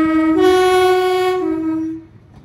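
A Class 153 Transport for Wales diesel unit at Crewe sounds a loud, close two-tone horn blast lasting about two seconds before it cuts off.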